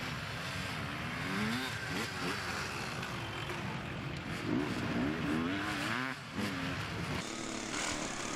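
A motorcycle racing, picked up in gear with the throttle held wide open, its engine snarling and rising and falling in pitch over a loud, continuous roar, ending in a crash pileup.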